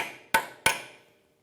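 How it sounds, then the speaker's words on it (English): Two sharp metallic hammer strikes on a chisel staking the front axle nut of a 2010-2015 Lexus RX350, evenly spaced and close, each ringing briefly before fading. "Using a hammer and a chisel,"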